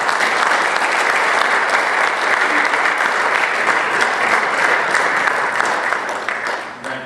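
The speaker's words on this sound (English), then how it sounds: "Round of applause for Ms." Warm applause from the audience at a city council meeting, even and dense clapping from many hands that runs for several seconds before tapering off toward the end.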